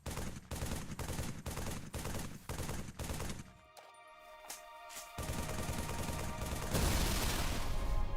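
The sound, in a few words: gunfire from a modded Banshee in the video game Halo 3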